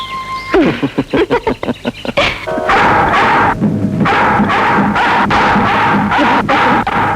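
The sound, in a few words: pet dog barking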